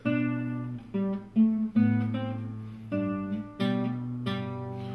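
A guitar plucks the closing two measures of Bach's Minuet in G, a clear melodic run of about eight separate notes, each ringing briefly before the next, played alone and fairly close.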